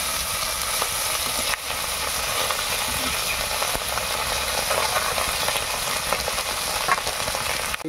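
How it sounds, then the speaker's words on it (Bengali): Bele fish, sand goby, sizzling in hot oil in a village kitchen, an even, dense crackle with occasional light clicks and knocks from the pan, steady throughout. "দেখুন বেলে মাছগুলো ভাজার কাজ চলছে।"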